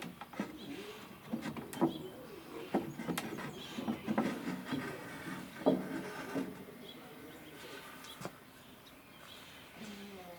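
The wooden action of an 1841 Chickering piano slides and is worked out of the case in a series of rubbing, scraping and knocking sounds with occasional sharp clicks, close and fairly quiet, with no talking.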